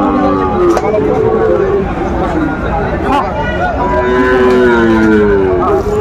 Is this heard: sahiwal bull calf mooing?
yes